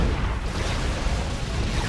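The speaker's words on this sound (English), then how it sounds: "Big synapse explosion there." A Tyranid synapse explosion in the Dawn of War 2 strategy game bursts as a dense, loud rumbling blast that roars steadily throughout.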